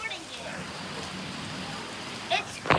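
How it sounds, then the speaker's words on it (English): Rain pattering steadily on a surface during a thunderstorm, a soft continuous hiss with a couple of brief sharper bursts near the end, no speech. "I'm recording the rain."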